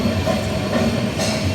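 An Amrit Bharat Express train runs at cruising speed past Thiruvalla, giving a loud, continuous rumble of wheels on rails with a steady rattle and a brief brighter hiss near the end.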